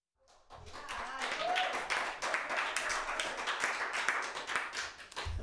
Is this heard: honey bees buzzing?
no